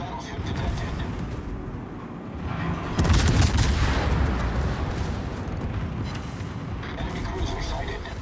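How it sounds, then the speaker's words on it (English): Scharnhorst battleship guns firing in World of Warships: a heavy, booming blast hits near the midpoint and rolls into a long rumbling decay over a steady background of naval battle noise, with speech present. "All stations, concentrate fire on the target."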